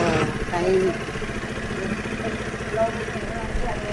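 A motorcycle engine idles steadily with a low, even chugging, while someone talks over it nearby.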